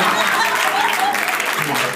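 Loud audience applause, dense clapping filling a short burst with a few voices faintly mixed in.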